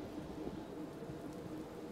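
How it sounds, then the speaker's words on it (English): Steady downpour of rain in the Pyre video game, a dense continuous hiss of falling water at even loudness throughout, with no voices. "One evening, amid a downpour, with no interest whatsoever in relenting,"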